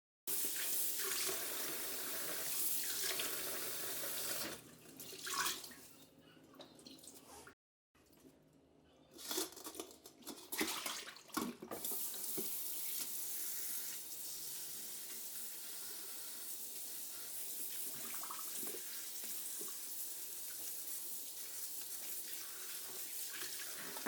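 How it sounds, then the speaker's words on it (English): Tap water runs steadily into a kitchen sink while fresh herbs for celery stew are rinsed, a continuous close hiss and splash that briefly cuts out and sputters before flowing again for a long stretch. "Now we're washing the herbs, and you're going to wash them 3 times."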